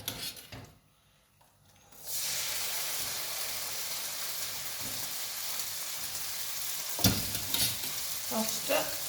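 Pasta dropped into a pan of hot fat for carbonara sets off a sudden, loud, steady frying sizzle after a quiet moment, with a few clatters near the end.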